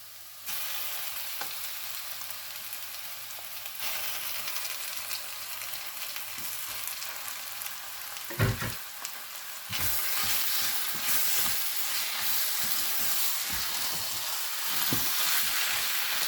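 Mashed potato and carrot are stirred into a frying pan, giving a steady sizzle with scraping and clunks of the spoon, growing louder and busier after about ten seconds.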